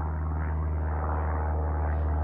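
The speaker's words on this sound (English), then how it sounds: "Where's that airplane coming from?" A propeller airplane drones high overhead during a fall forest walk, a steady, continuous low hum with no voices.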